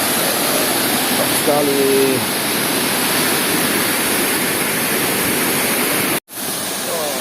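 Steady, loud rushing roar of Angel Waterfall on the west coast, a broad constant wash of water noise; a voice speaks briefly early on and the sound cuts out for an instant near the end.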